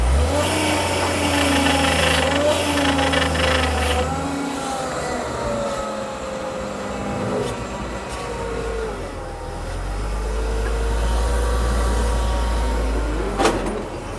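Forklift engine running while lifting a tractor, with a loud, steady diesel drone whose revs rise and fall as the load is picked up and moved.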